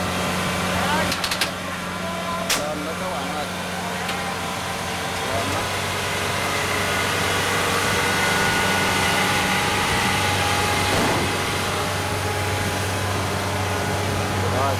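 A harvester climbs a bank in a rice field, its engine droning steadily and loud for the whole stretch with mechanical rattle and a few sharp knocks near the start, someone talking over it.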